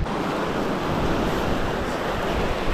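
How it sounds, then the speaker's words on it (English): Strong wind roars steadily across a rocky Hawaiian shoreline with surf washing underneath, a constant broadband rush buffeting the microphone for the whole stretch, loud and close with no voices. "Very windy."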